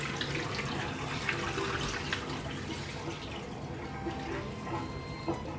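Water runs and splashes continuously as washed goat meat is drained for adobong kambing, a close, steady pouring with small drips and clatter in a kitchen, no one speaking.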